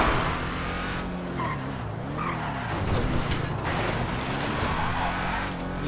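A car in Grand Theft Auto skids with a sustained tire squeal over a loud, continuous engine roar, the pitch wavering as the car slides, close and filling the whole stretch.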